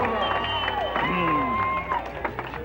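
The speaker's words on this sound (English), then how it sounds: "It's time for another burst of applause, Wichita Falls." Crowd applause and cheering welcoming riders of the Hotter 'N Hell 100 mile bike ride in Wichita Falls, a steady outdoor patter mixed with babble and a voice talking over it.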